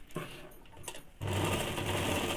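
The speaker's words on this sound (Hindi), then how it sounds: "इसी प्रकार से दूसरे वाले साइड का भी सिलाई कर लेंगे।" Sewing machine stitching the side seam of a pair of men's underwear: a faint run of stitching at first, then a steady, louder motor whir and rapid needle chatter running continuously to the end.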